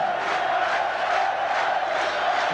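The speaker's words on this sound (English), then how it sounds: "This packed crowd here in Tel Aviv, getting right behind this Israeli side now." A packed stadium crowd in Tel Aviv roars steadily behind the Israeli side during a 1986 World Cup qualifying football match, a dense, continuous wash of cheering with no break.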